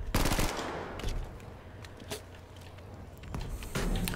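Type 2a submachine gun firing in Battlefield V, a few quick bursts of rapid automatic fire at the start and end with scattered shots and battle noise between.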